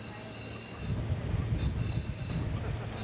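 A Salta cloud train, the Tren a las Nubes in Argentina's high mountains, rumbles steadily along its track with a low continuous roar, high metallic wheel squeal and occasional clatter, close and sustained throughout.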